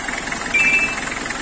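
A 1992 Nissan Cedric with a 2500 cc engine and a new water pump idles smoothly. It gives a steady, even hum up close, with no pauses and no talk.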